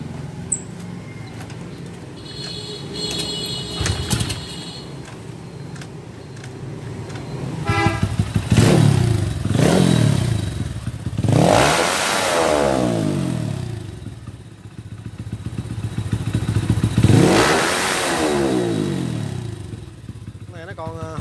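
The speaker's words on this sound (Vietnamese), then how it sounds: "để mình nổ máy lại mọi người" A motorcycle engine cranks and fires after carburetor fuel tuning, then revs up and down several times in loud surges, with clattering and a person talking nearby.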